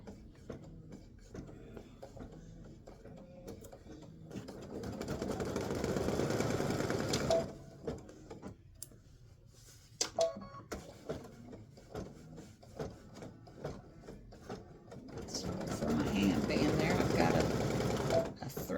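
An embroidery machine stitches the middle of an appliqué Band-Aid design, running in two bursts of rapid mechanical buzzing separated by a quieter pause, with a person talking in between.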